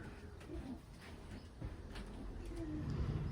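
Racing pigeons coo in a loft, soft repeated low coos at close range with some faint background rustle and noise.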